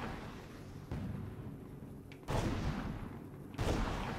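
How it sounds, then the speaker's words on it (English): Artillery fire in the video game Toy Soldiers: three heavy booming blasts land at steady intervals over a continuous rumbling battle bed, each burst loud and close, with no talking. "Let's get some artillery going."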